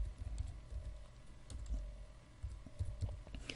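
Soft typing on a computer keyboard, faint scattered key clicks in irregular short runs, close by in a quiet room.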